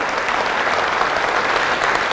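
A large conference audience applauding steadily during a tech keynote, a dense even wash of clapping that stays loud throughout.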